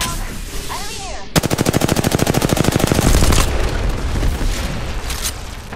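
Rapid automatic gunfire in the video game Apex Legends, a loud, close burst of evenly spaced shots lasting about two seconds, then trailing impacts and game noise.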